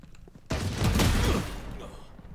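Gunfire in the video game Valorant, a loud burst of rapid shots lasting about a second, with quieter game sounds before and after.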